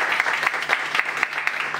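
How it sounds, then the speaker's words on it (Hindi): An audience at a Hindi poetry recital claps in a dense, steady burst of applause that stays fairly loud throughout this short stretch. "तो एक बार आप सब अपने लिए जोरदार तालियां बजा सकते हैं।"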